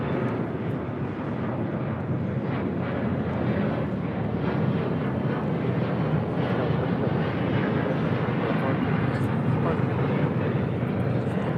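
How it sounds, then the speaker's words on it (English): A Delta Connection Embraer E175 jet takes off at LAX, its engines producing a sustained, heavy roar that stays loud across the whole stretch while someone speaks over it. "3766 taking off to Tucson, Arizona on an E175"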